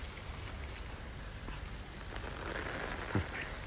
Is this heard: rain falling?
yes